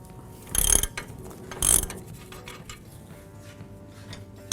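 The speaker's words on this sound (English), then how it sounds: "Now I'll switch to a ratchet, take this nut off." A ratchet loosening the top nut on a 2009 Ford Escape front shock absorber, two short bursts of rapid clicking close up, then quiet shop background.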